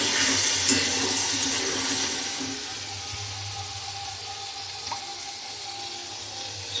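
Water is poured into a pan during cooking, a gushing, splashing stream that is loudest at first and then tapers into a quieter trickle and faint sizzle, with no talking.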